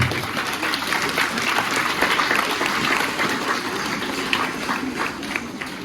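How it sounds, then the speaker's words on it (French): Children clap together in a church during a children's Mass, a dense, loud, continuous round of applause lasting several seconds. "On applaudit le roi des rois."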